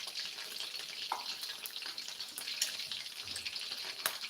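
Garlic fries in hot oil for garlic fried chicken, giving a steady, close, crackling sizzle with small pops and no talking.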